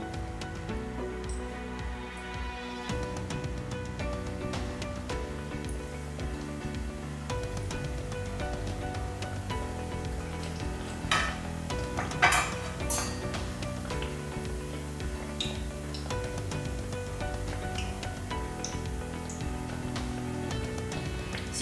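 Crescentine, fried bread dough, sizzle steadily in hot oil with a dense, constant crackle and occasional brighter pops and clinks throughout.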